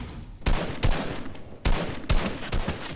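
Several loud gunshots ring out in separate bursts, spaced irregularly over a few seconds, with a steady background hum between them.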